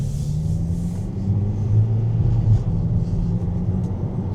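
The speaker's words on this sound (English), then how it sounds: "So this is the 150 horsepower, and that was kickdown." A 2025 VW Kombi van with the 150 hp engine accelerates on kickdown, a fairly quiet, steady low engine hum that swells slightly as revs climb, heard from inside the cabin with no talking.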